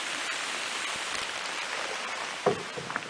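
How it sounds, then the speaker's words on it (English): Steady rain falls in the Amazon jungle, a dense even hiss of drops with a few louder close patters near the end, with no voices. "Rain."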